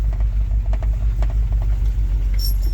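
A 1969 Ford Mustang, one-owner car with 59K original miles, moving under its own power after sitting 30-plus years, gives a steady low engine rumble with faint clicks and rattles, close and continuous.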